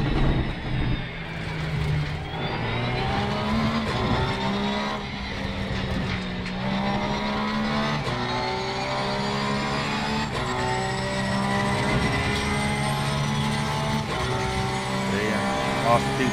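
A Porsche 911 GT3R race car at Paul Ricard in Assetto Corsa Competizione, its engine screaming loud and close through rising gear shifts and downshifts, with occasional tyre squeal.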